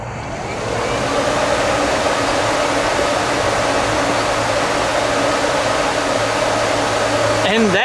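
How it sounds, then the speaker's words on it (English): Electric cooling fans on a budget-build Chevrolet C10 truck whir up and run in a loud, steady broadband rush that holds unchanged for several seconds, with no talking. "So I should be able to turn on the key and the fans come on."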